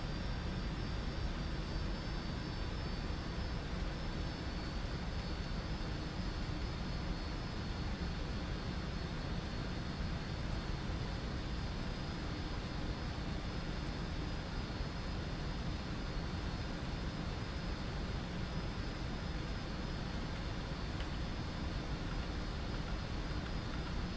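Boeing 747-400 jet engines at takeoff thrust in a P3D flight simulator, a steady, loud broadband roar with a faint high whine, unbroken for the whole stretch and with no talk over it.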